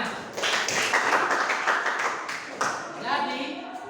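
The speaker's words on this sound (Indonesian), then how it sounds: "Ya, kita beri tepuk tangan." A classroom of students claps for a classmate in a dense burst of applause that swells and then tapers, with voices mixed in.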